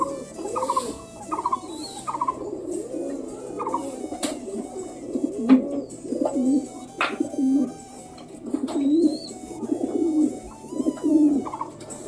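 Pet pigeons cooing, kept alongside Australian doves, with repeated soft, rolling coos from several birds overlapping near and far, plus occasional fluttering and scuffling, over about twelve seconds without speech.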